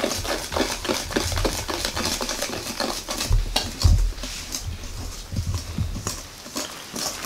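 Batter of flour, cocoa powder and baking powder stirred in a bowl for a chocolate cake, heard as a steady run of close scraping and tapping strokes with a few heavier knocks.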